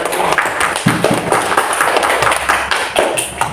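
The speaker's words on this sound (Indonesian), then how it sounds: "Dan tepuk tangan untuk" Classroom applause from a group of students, steady dense clapping lasting several seconds with scattered louder claps, close and fairly loud, no talking over it.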